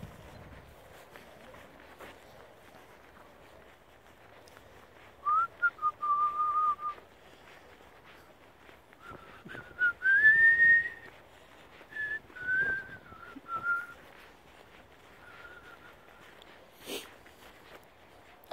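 A rider whistles in short melodic bursts while horses walk around a riding arena, with several separate whistled phrases over quiet hoof and ambient noise.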